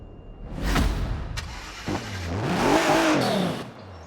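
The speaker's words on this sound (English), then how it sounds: "let's hear this EcoBoost V6" A 2020 Hennessy Velociraptor's EcoBoost V6 engine starts and revs up, climbing in pitch with a turbo whoosh before dropping back, close and loud.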